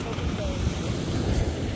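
Ocean waves surging in a steady wash, mixed with wind buffeting the microphone and low rumbling noise.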